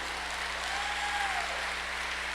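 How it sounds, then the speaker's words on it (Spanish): Steady applause from a church congregation clapping in praise, a dense wash of hands lasting a couple of seconds over a constant low electrical hum. "Démosle palmas al Señor."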